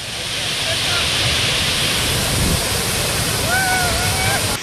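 A waterfall swollen by heavy rain in northern Kerala rushes in a loud, continuous roar close by, with a couple of faint bird calls rising above the steady torrent.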